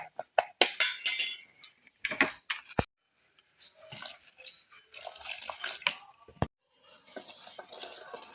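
Fish pakora batter is mixed with water in a bowl, with irregular clinks and wet sloshing scrapes of a utensil against the bowl coming in short bursts separated by brief pauses.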